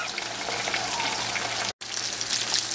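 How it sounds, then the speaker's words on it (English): Frozen food frying in oil in a small Fry Daddy deep fryer, a steady close crackling sizzle with a brief cut in the middle. "So we got them in our little fry daddy, just frying up, having a good old time."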